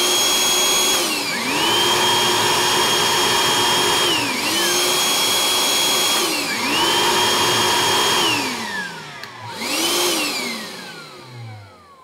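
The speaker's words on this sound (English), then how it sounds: "These vacuums, they are loud in themselves. So let's listen. So this first the old one." An old Ryobi workshop vacuum at its highest speed, its motor whine rising, holding steady and falling away in four repeated surges, loud and close with no talking.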